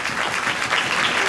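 At a teen beauty pageant evening, an audience claps steadily for the make-up artists and hairdressers, a continuous moderate wash of applause with no pause.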